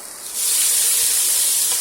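Sausage patties in a pot on medium heat with added water give off a loud, steady broadband hiss of sizzling and steam that swells after a quieter start and stays constant, with no voices.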